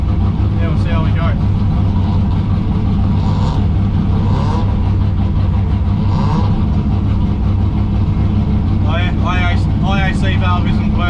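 A turbo Ecotec drift car idles high and loud at a state drift event, a dense steady engine rumble under close, intermittent talking throughout.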